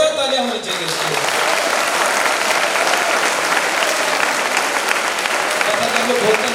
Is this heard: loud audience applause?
yes